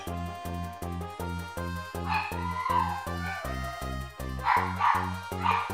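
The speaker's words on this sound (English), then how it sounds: "If my dog can just stop barking" A dog barks and yips in short bursts over steady rhythmic background music, the barks rising and fading a few times.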